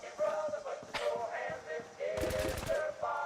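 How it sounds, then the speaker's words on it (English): Fallout 4 video game gunfire, a rapid automatic burst of shots mid-clip with scattered single shots and thuds before it, mixed with game sounds. "Alright, Heather, what the fuck are you shooting at?"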